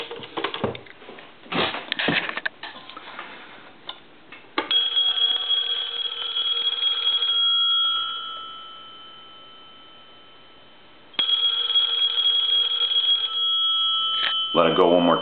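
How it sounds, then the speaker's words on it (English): A payphone's mechanical bell rings on a repair test, two long sustained bursts of loud metallic ringing with a pause between them, after some knocks and handling noises. "We'll ring the telephone one more time."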